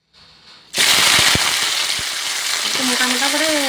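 Vegetables, including cut cabbage, drop into a hot frying pan and burst into a loud, sudden sizzle that continues steadily, with a few clinks of utensils and a faint voice near the end.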